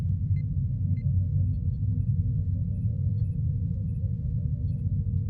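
Sci-fi starship communication interference from an electromagnetic storm: a steady, deep rumbling drone with faint, sparse electronic pings above it, continuous and without speech.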